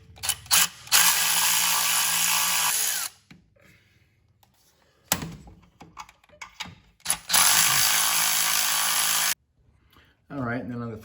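A ratchet removes motor mount bolts on a car during engine mount work, with two long, loud runs of rapid clicking, separated by quieter pauses and short bursts, and some speech between them.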